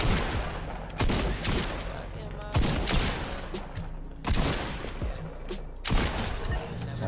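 Shotgun blasts in Fortnite boom out at roughly even intervals, about five heavy reports each trailing into a rumbling decay, with a constant game soundscape underneath.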